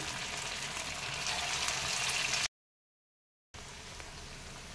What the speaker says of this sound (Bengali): এইভাবে বড়াগুলো ভেজে নেব, খুবই মুচমুচে এবং টেস্টি হবে। এইভাবে একটা করে আমি তেলেতে দিয়ে দিচ্ছি।